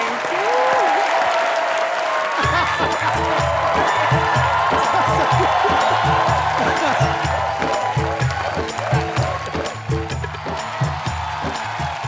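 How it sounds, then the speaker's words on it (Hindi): Studio audience applause on a Hindi comedy talk show, loud and sustained throughout, with rhythmic music and a voice coming in over the clapping partway through. "आइए, जोरदार तालियां सोनाक्षी के लिए प्लीज"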